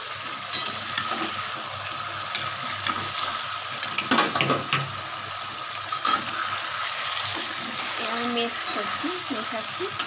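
Bengali chicken kosha sizzles in a pan as it is stirred, giving a continuous frying hiss with intermittent scraping clicks and a voice talking briefly toward the end.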